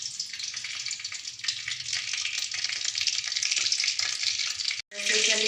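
Hot oil fries in a pan with a steady bright sizzle and crackle, loud and close, cutting out for a moment near the end before resuming just as strongly.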